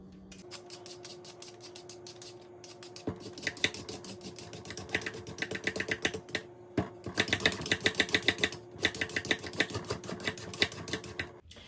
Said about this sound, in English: I'm going to use my vegetable peeler to peel my carrot.